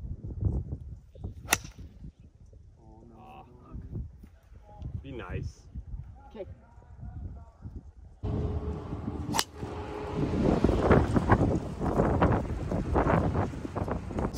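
Strong wind on a golf course buffets and roars across the microphone, growing much louder in the second half, while a person talks underneath.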